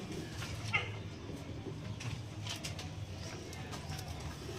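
Faint domestic pigeons coo in soft, low bursts against a quiet background, repeating irregularly over a few seconds, as they are lifted off their eggs.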